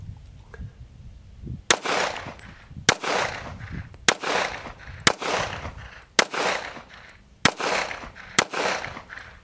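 Seven sharp handgun shots from a Regent R200S budget 1911, fired at a steady pace about a second apart, each a loud crack with a short ringing tail.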